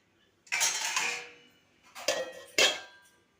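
A pot of steaming elephant-foot yam with salt and turmeric gets stirred and covered, giving three clattering metal knocks and scrapes of utensil against pot, moderately close with quiet pauses between.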